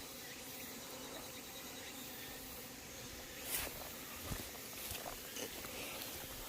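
Honeybees buzz around a beehive in a faint, steady drone, with a few brief louder passes as individual bees fly close by.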